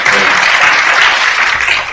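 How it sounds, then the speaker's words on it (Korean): Studio audience at a Korean panel discussion on progressive politics gives a burst of loud, dense applause, many hands clapping steadily and close, filling two seconds without a break. "응원의 박수를"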